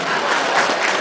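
Audience applause at an award ceremony, heard as a dense, steady wash of clapping and crowd noise from a roomful of people, sustained at even loudness with no voice over it.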